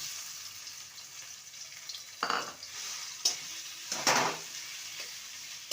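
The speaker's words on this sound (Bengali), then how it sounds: "ভালো করে নেড়ে নেব" A steady sizzle fills the pan while a spatula scrapes and tosses pumpkin leaves in a few distinct strokes, close up.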